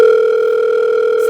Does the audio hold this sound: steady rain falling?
no